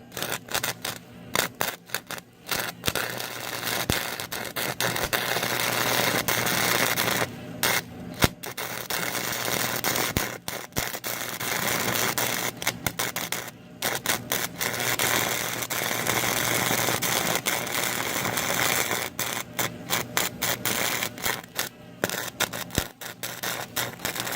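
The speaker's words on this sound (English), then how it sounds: "I'm gonna probably weld somewhere this direction this time" Welding on the deck of an old Snapper Pro walk-behind mower makes a loud, continuous crackling buzz close up, broken by several short pauses between beads.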